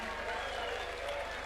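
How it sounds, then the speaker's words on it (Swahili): Audience applause at a UDA party National Delegates Conference held at State House, heard as a steady, dense wash of clapping that holds at an even level through the whole short stretch. "tuwapigie makofi"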